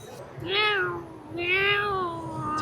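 A cat meows twice, loud and close, each call a drawn-out rising and falling cry in a quiet indoor space.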